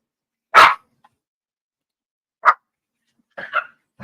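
A puppy gives a few short, sharp barks spaced apart with silence between them, close and clear, with no voices over it.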